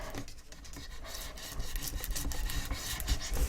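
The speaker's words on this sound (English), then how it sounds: "give it a little burnish" Paper being burnished for a tri-fold photo frame, a close, steady dry rubbing and scraping that grows slightly louder toward the end, with no talking.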